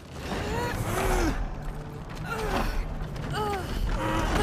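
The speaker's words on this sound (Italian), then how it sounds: "Sentila come cigola e fa rumore" A heavy door in the God of War Ragnarok game creaks and groans in several drawn-out, rising squeals, moderately loud amid faint background ambience.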